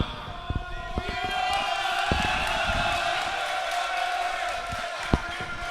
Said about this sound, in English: We've got some rowdy supporters out here tonight.